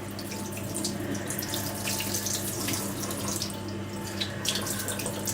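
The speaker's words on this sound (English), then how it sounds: "We're just letting the water fall down the wig." Tap water runs continuously over a synthetic wig being rinsed, a soft steady splatter and trickle heard close up and alone.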